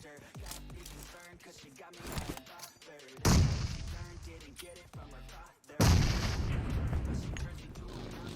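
Gunfire in the mobile game PUBG Mobile: quick clusters of shots crackle under excited player chatter, with two heavy, loud bursts of firing and explosions breaking through near the middle and toward the end.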